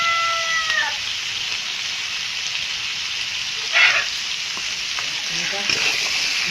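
Pieces of desi chicken frying in salt, turmeric and spice masala, stirred in the pan, a steady hiss with brief scraping bursts and a short high whine near the start, no talk.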